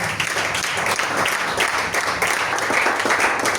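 Church congregation applauding together after a Bible reading is announced, a steady dense wash of clapping at moderate loudness that holds evenly throughout without pause.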